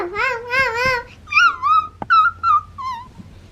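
A person playfully imitates a dog, yipping and whimpering in a high, sing-song voice, several short bark-like cries of "hav hav" in a row, close up.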